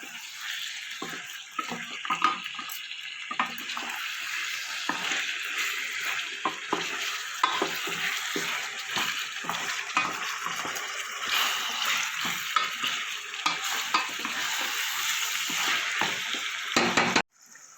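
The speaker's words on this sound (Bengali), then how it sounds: "তার সাথে দেবো একটু ক্যাপসিকাম, এবার ভালো করে মিশিয়ে নেব।" Chicken chilli with capsicum and tomato being stirred and fried in a pan, a continuous close sizzle with repeated scraping strokes of the spoon throughout, ending abruptly.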